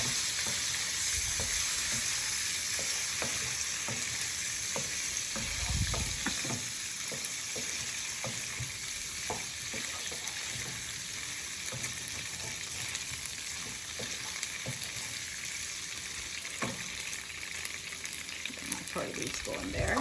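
Ingredients for ammini kozhukattai fry steadily in a pan, a dense continuous sizzle with occasional soft stirring knocks, close and alone without voices for the whole stretch.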